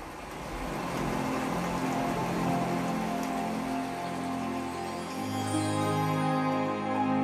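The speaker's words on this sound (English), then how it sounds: "Hear those raindrops all over the room." Rain patters steadily across a surface in a dense, even wash, played as a demo through a Platin Monaco 5.1.2 wireless Dolby Atmos speaker system, with a low hum shifting underneath partway through.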